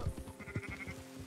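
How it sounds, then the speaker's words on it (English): Sheep bleating in the Red Dead Redemption 2 video game, several short wavering cries repeated in quick succession at moderate distance, with a low rumbling game background underneath. "look, boys, we got sheep"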